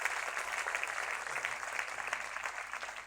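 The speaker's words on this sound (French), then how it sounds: "Est-ce qu'on peut applaudir le Seigneur?" Congregation applauding the Lord at a francophone church conference: a steady, fairly faint wash of clapping from a crowd, with no voice heard.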